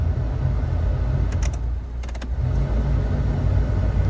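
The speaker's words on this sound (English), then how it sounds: "So if we turn the heaters on now," A Peugeot car's heater blower fan runs with a steady, loud whoosh alongside a low hum, broken by a few quick clicks partway through.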